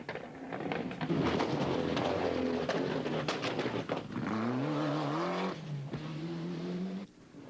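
A rally car on a stage at the 1996 Rally de Hannut accelerates hard, its engine loud and close with rising, sweeping pitch through gear changes, continuous over about seven seconds before dropping away at the end.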